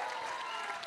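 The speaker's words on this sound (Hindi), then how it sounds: "ताली बजा इन लोगों के लिए एक बार, दोनों के लिए." An audience at a film trailer launch applauds, a dense, steady wash of many hands clapping throughout a brief burst, loud and continuous, with faint voices mixed in.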